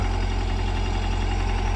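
A steady, low tractor engine idles and rumbles continuously, close by, with a constant throbbing drone and no voices.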